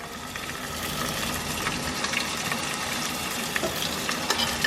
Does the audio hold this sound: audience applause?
no